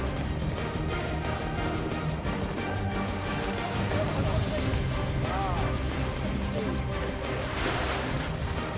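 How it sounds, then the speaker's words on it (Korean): Ocean waves slosh and churn continuously around a small fishing boat at sea, a dense, steady wash with wind noise and a few faint voices mixed in. "출렁거리는 롬폰 위에서 그야말로 파도와 싸우며 2차 물고기 확인에 들어간 해리 씨."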